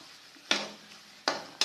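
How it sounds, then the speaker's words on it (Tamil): Three quick scraping strokes of a utensil stirring thick vada curry in a pan, with a faint sizzle between them. "பச்சை வாடை போய் நல்லா சுண்டி வர வரைக்கும் அப்படியே கிளறிக்கினே இருக்கணுங்க."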